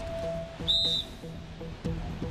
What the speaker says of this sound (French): Le sifflet permet de communiquer dans le noir